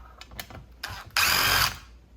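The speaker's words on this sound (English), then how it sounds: "Use my drill to save some time." A power drill used while working on a Husqvarna 455 Rancher chainsaw, with a few short clicks and ratcheting taps, then one loud burst of the motor spinning for about half a second before stopping.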